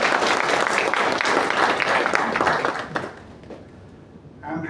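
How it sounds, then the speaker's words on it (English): An audience at a management association talk applauds loudly in a dense wash of clapping that fades out after about three seconds, followed by a brief sound at the end. "Please give him a loud applause."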